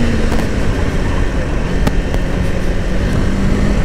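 A Kawasaki Ninja 500 motorcycle engine revs high and holds a loud, sustained whine as the bike passes, close and continuous with no talk.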